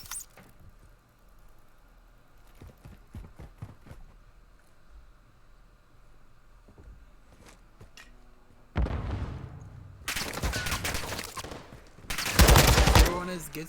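Gunfire in a Call of Duty match, with scattered faint shots early, then loud dense bursts of rapid automatic fire near the end, heard over a caster talking.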